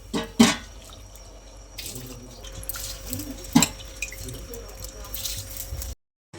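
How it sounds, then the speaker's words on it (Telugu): Soaked basmati rice going into boiling water for chicken biryani: wet squishy splashes and drips, two sharp plops, a soft bubbling wash, and a brief cut to silence near the end. "సో ఇంకా రైస్ అయితే వేసేద్దాము. రైస్ వేసుకుంటున్నాము."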